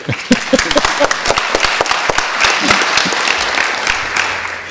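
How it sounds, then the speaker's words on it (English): Audience at an ICAO aviation training conference panel applauding the moderator, with distinct close claps at first that blend into a brief full round of applause, tapering toward the end. "let's have a warm hand of applause for our moderator"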